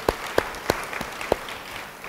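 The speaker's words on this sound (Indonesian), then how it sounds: "beri tepuk tangan sama Tuhan" A church congregation claps during a worship service, a few scattered, distinct claps at moderate distance, irregularly spaced and fairly faint, with no talking over them.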